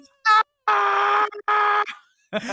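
A voice imitates a woman screaming lyrics in the Dune film music, with loud sustained wailing notes broken by short pauses, close and alone.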